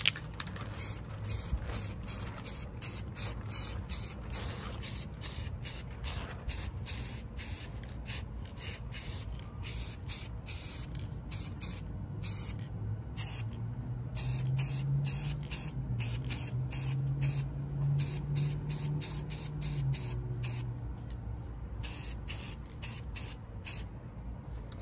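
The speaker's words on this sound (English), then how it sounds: "So we're just gonna lightly coat it right now, let the paint kind of tack on." Steady hissing spray of paint being lightly coated onto a 4-stroke Yamaha Chappy motorcycle frame, continuous and close for the whole stretch, with faint clicking and rubbing underneath and no talking.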